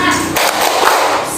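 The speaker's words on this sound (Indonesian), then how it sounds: "Silakan tepuk semangat, bisa nggak?" A class of students performs a quick rhythmic spirit clap (tepuk semangat), several sharp hand claps in close succession filling the room at close range.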